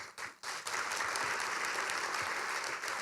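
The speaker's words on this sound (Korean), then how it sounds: "다시 한번 뜨거운 박수로 환영하며 또 격려의 박수 부탁드리겠습니다" Audience applause at a Christian business conference gathering, starting with a few separate claps, then swelling into a full, steady round of clapping from a large crowd that holds to the end.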